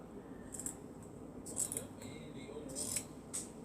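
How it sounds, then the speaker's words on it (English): Scissors snip off the corner of a quilt in a few faint, crisp cuts spaced about a second apart, close by in an otherwise quiet room. "Now the corner of my quilt, I'm going to cut it off."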